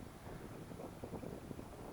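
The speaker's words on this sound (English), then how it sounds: "because it's quite windy here" Steady wind noise buffets the microphone outdoors in the Scottish Hebrides or Highlands, a dense low rumble with gusty fluctuations and no voices.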